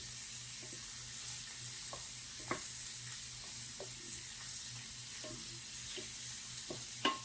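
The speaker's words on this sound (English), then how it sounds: "searing those steaks, once it hits 450 on each side in that frying pan, works good" Quiet, steady sizzling of steaks searing in a hot cast iron pan, with occasional small pops and crackles and a faint low hum underneath.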